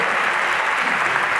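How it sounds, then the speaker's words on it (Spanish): Dense, steady applause from a large audience filling a tango championship arena, a continuous loud wash of many hands with no pauses. "el último sonido, el aplauso del público y además el aplauso de quienes hoy estuvieron"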